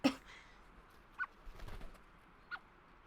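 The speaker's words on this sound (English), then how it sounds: "those are birds" Several short bird calls, faint and somewhat distant, scattered over a few seconds against quiet outdoor background noise.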